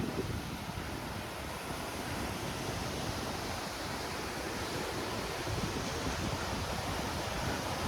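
Surf rolling onto Kovalam beach, a steady broadband wash of waves mixed with wind buffeting the microphone, constant and close with no voices.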